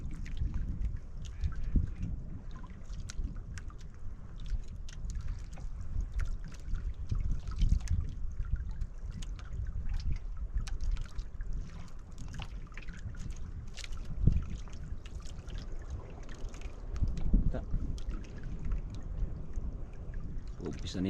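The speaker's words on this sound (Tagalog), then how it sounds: "Umpisa na yung alon." Water waves starting to roll in around a small boat, a low, continuous wash and slosh with wind noise, fairly close, with occasional trickles.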